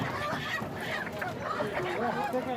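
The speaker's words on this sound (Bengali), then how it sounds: "আমরা এখন দেশি মুরগির দোকানে আছি।" Native chickens at a poultry shop in a Bangladeshi market give a few soft, low clucks, faint and close, with shop noise and light background voices around them.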